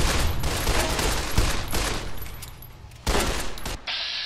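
Rapid SMG bursts in the video game Fallout: New Vegas, loud continuous automatic gunfire with a short break before another burst.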